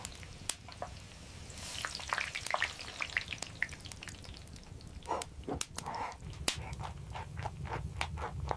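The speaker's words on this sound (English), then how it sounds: "the elderly woman fries meat" Meat fries in a pan cooked by an elderly woman, giving a soft, continuous sizzle scattered with sharp crackles and pops at an uneven rhythm.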